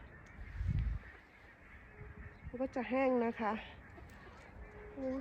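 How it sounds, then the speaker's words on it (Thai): A burst of several loud, nasal goose honks in quick succession, fairly close, with someone talking before and around them. "เสียงห่านนะคะ"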